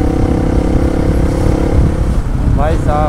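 A motorcycle engine labours under a heavy load as a steady, loud, droning rumble that never lets up, with a voice talking over it near the end.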